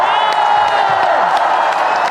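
A large live concert audience at Hong Kong Coliseum cheers and screams in a dense, sustained roar, with shrill high-pitched shrieks standing out above the continuous crowd noise.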